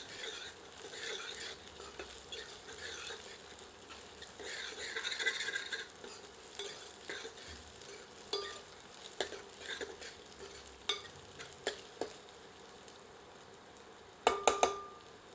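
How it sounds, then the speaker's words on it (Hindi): Green chillies sautéing in a pan while saag is made, a soft continuous sizzle with stirring scrapes and a few sharp clinks of a utensil against the pan near the end. "मिलाकर कुछ क्षण भूनते हैं।"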